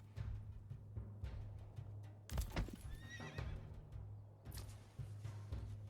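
A horse in the medieval city-building game Manor Lords neighs in a loud, shaking whinny midway, with clip-clop hooves and a steady low game hum running throughout.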